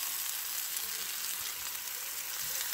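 Garlic chicken browning in a frying pan gives a steady, even sizzle of hot fat, continuous and close, with no voices over it.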